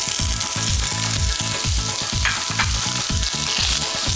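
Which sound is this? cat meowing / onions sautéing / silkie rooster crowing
onions sautéing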